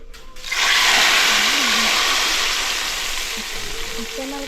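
Mustard seeds tempering in hot oil for a home-cooked chicken curry, a loud sizzling hiss that bursts in suddenly and then crackles steadily, easing slightly toward the end, with a faint voice under it.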